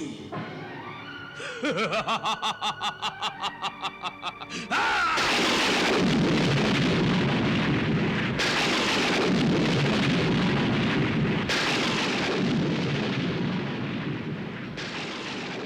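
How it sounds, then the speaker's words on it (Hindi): A stormy sound effect from a Hindi mythological TV serial: loud, steady rain-like roar with rolling thunder bursts, preceded by a rapid rhythmic pulsing, no talk. "लगता है तूफान आने वाला है।"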